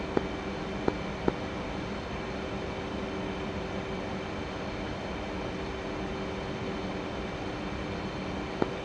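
An F/A-18C Hornet jet in flight in the DCS combat simulator gives off a steady, moderate engine drone with a constant tonal whine, broken by a few sharp clicks near the start and end, with no talking.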